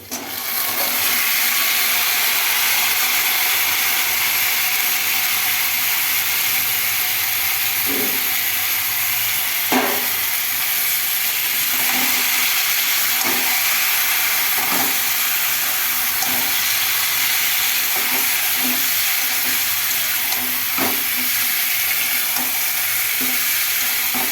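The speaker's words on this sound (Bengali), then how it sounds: "এর মধ্যে আমি এখন চিকেনটা দিয়ে দিব। চিকেনটা তারপরে কিছুক্ষণ কষিয়ে নেব।" Chicken frying with browned onions in a pan, a loud continuous sizzle and hiss throughout, broken by occasional light stirring clinks, close up and without voices.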